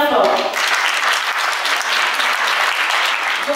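An audience at a commemoration ceremony for the abolition of slavery claps loudly and steadily, a dense wash of applause from a crowd, with a voice briefly heard at the start.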